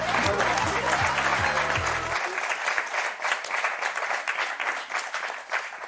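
Studio audience on a French word game show applauds the winning pair, a dense sustained wash of clapping lasting throughout, with a bright musical jingle playing underneath at the start.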